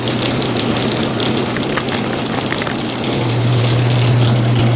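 A homemade wooden 2x72 belt grinder runs on its first test, its motor and belt giving a steady, even hum that swells slightly louder near the end, with no voices.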